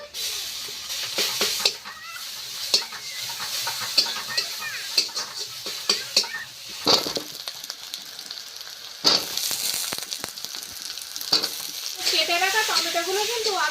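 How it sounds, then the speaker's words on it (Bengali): Onion, green chili, ginger and garlic sizzle and crackle in hot oil for a curry, a loud continuous fry with repeated scrapes and stirring knocks, and a voice talking faintly underneath at times. "তরকারি রান্না করার জন্য পেঁয়াজ আর কাঁচা লঙ্কা দিয়ে দিচ্ছি একটু আদা রসুন বেড়েছিলাম তা দিয়ে দিচ্ছি"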